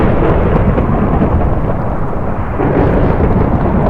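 Loud thunderstorm thunder from the Minecraft video game rolls continuously as a dense, roaring rumble with rain-like hiss, dipping slightly midway before swelling again.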